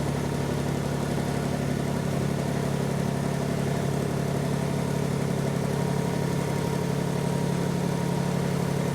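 A subcompact tractor engine runs steadily while a pin-on loader is attached, giving a loud, constant mid-pitched mechanical drone with no variation and no talk.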